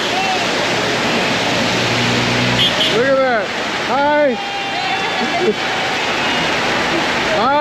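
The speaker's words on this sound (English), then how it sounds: "Got caught in the rain." Heavy rain pours down steadily in Cebu, a dense, loud, constant hiss, while people speak briefly over it and a rising-and-falling whistling tone sounds a few times.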